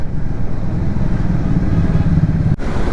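A Hero Splendor motorcycle rolls past on an open road during a group ride, its steady engine drone loud and close with continuous low rumble throughout, briefly dipping near the end.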